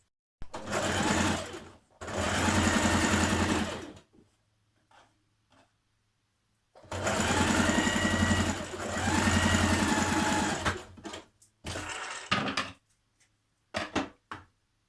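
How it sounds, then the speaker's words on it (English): A sewing machine stitches an underarm seam on a playsuit made from a refashioned duvet cover, running in two long steady bursts of about three seconds each, separated by a pause, followed by a few short stop-start taps near the end. "So stitch this seam underarm first of all."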